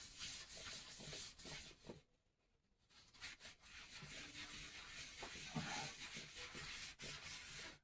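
A transparent black finish is rubbed by hand into tight-grained mahogany, a faint, steady scrubbing swish with one brief pause.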